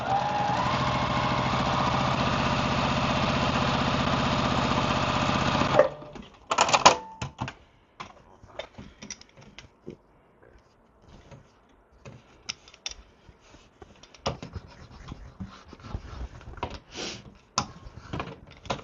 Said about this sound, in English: So I'll meet you back at the sewing machine